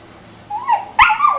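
A dog barks and yelps twice in quick succession, close and fairly loud, the second call sharper than the first, with a faint low hum underneath.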